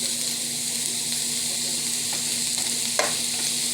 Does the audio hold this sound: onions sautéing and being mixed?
yes